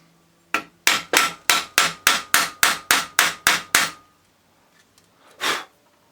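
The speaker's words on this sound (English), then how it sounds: "Use a small hammer." A small, clean hammer taps a Subaru Impreza alternator about a dozen times in a steady, even rhythm, each knock sharp and close, followed by a pause and one softer scrape or knock.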